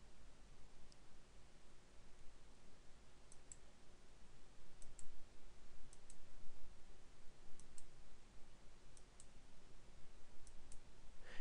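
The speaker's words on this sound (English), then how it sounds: "left click in the corners and then right click around the curve" Mouse clicks on a computer while tracing an object outline, left clicks at corners and right clicks along a curve; faint, sparse sharp clicks spaced irregularly over a steady low hiss, no talking.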